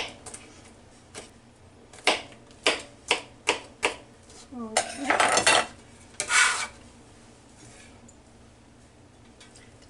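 Red and green peppers being chopped on a cutting board, a run of sharp knife taps in quick succession followed by a louder rustling scrape as the pieces are gathered, fairly close with faint background noise.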